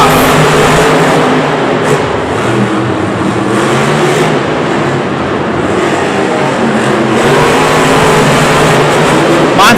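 Monster trucks race side by side at a Monster Jam event in Singapore, their engines roaring loud and continuous as they accelerate off the line, with a crowd and announcer mixed in under the din.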